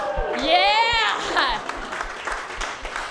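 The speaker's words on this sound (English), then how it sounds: "Now stop clapping" Applause from a stand-up comedy audience greets a joke, a steady mid-level wash of clapping lasting a few seconds while a comic's voice rises over the top.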